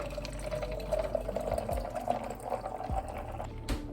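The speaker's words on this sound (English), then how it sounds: "and then I'll add some creamer to it." Great Value Speculoos Cookie coffee creamer pours into a glass of iced coffee over ice, a steady close liquid trickle that runs for several seconds with a few faint clinks.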